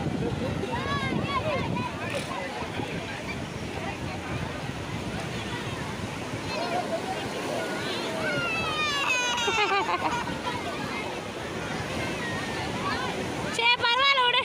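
Sea waves wash up on the sand at Marina Beach with a steady, full roar, mixed with wind buffeting the microphone and voices talking throughout.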